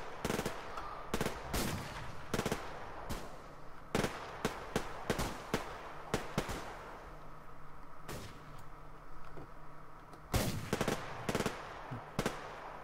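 Gunfire in the shooter game Suvarium, heard as bursts of sharp, loud shots in uneven clusters, some rapid like automatic fire and others spaced apart, with no talking.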